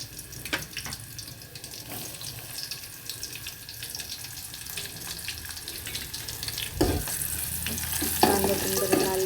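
Onion fries in a pan for Malvani fish curry, a steady close hiss of sizzling oil running throughout, with occasional scrapes and knocks of stirring that grow a little louder toward the end.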